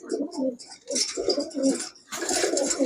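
Pakistani high-flyer Giribaz pigeons coo repeatedly at close range in soft rolling bursts, with faint chirps and a voice briefly audible in the background.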